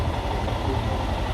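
Royal Enfield Himalayan motorcycle idling steadily while a decarbonization machine feeds hydroxy (HHO) gas into it, a continuous low engine rumble with an even mechanical hum.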